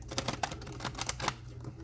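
Quick, crisp papery riffling of tarot cards, a rapid flurry of small flicks and snaps, close up and fairly quiet.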